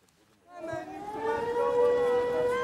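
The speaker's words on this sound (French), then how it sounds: "À chaque sirène d'alarme," An air raid alarm siren sounds in Kyiv, rising in from near silence after half a second into a steady wailing tone that holds and swells slightly, fairly distant with faint background noise.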